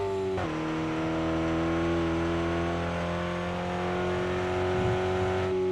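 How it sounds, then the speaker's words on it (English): A truck's engine in a dirt racing video game holds a steady, loud, buzzing drone as it throttles through a corner, with one brief dip and recovery in pitch near the start. "throttle around the corner to make sure I can keep the truck in alignment"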